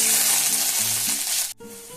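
Garlic, ginger and green chillies sizzle loudly and continuously in hot oil, with a brief dip partway through before the frying hiss resumes.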